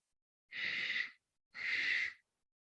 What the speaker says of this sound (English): We'll take 3 full rounds of ujjayi breathing.